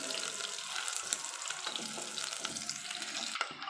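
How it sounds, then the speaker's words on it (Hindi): Ginger frying in oil in a pan for a saag tarka, a steady close sizzle with faint bubbling and occasional stirring, heard alone with no talk. "इसको लाइट ब्राउन तक करने तक हम इसको फ्राई करेंगे।"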